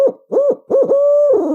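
A caller's voice imitates an eight-note owl hoot as a turkey locator call, a series of close, loud, rhythmic hooting notes with short gaps, ending in a longer drawn-out hoo.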